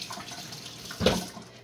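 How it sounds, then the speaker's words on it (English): Berries being rinsed under a running kitchen tap, a soft steady trickle of water with a brief louder splash near the end, close and quiet. "Let me just rinse these. I gotta rinse them."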